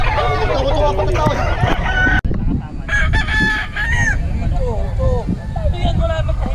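A rooster crows repeatedly close by, mixed with clucking fowl, while people talk over it throughout.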